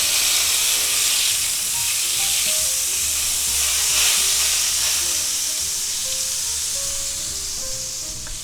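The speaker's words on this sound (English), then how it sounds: "I'm going to put some butter in the pan here." Butter sizzling loudly as it melts in a pan, a dense, steady hiss that runs throughout and eases slightly toward the end.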